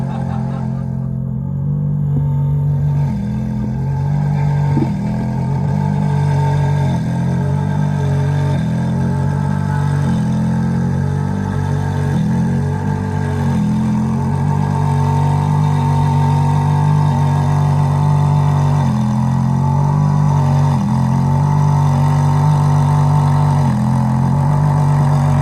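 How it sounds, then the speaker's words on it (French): A Ferrari F430 Spider pulling in to park at the 24 Hours of Le Mans event: a loud, steady, rumbling V8 idle with small blips and throttle changes, close and continuous, with no talk over it. "Et donc regardez ici le départ de la F430 Spider."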